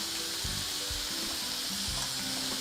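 Ham frying in a pan gives a steady, close hiss of sizzling fat, with a few soft scraping stirs underneath and no speech.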